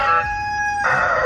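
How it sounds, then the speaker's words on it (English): Rooster crowing nearby, a loud, drawn-out, tonal call that holds and then shifts into a harsher ending, heard alone with no talk. "Are those two roosters?"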